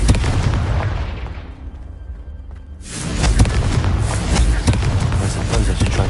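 A Confringo fire spell from a wizarding video game blasts apart vases, a loud booming burst that fades into a brief quiet before a second heavy explosion and crackling debris rumble on.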